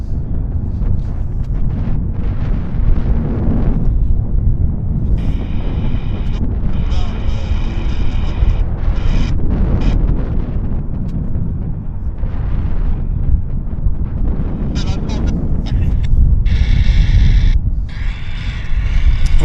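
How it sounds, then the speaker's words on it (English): A Boeing 777 at Vancouver Airport starts its jet engines, a deep, loud rumbling roar with gusty, wind-like surges that builds and shifts throughout, heard from some distance outdoors. "777 engine startup."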